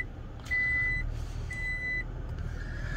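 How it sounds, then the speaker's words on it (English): Steady high-pitched warning beeps from a 2022 Toyota Tacoma TRD Pro sound in long, evenly spaced tones over a low rumbling engine, fairly close. "What's it beeping at? Why is it beeping?"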